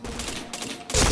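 Rapid bursts of video game gunfire, a dense rattling fusillade of close shots that swells louder at the end, with no voices.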